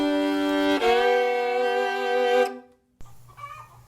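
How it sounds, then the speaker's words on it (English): A rooster lets out one long, loud crow up close in a chicken coop, followed by quieter clucking and fowl calls after a brief pause. "her chicken coop, along with all her chickens"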